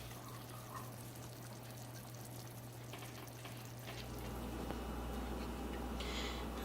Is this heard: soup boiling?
yes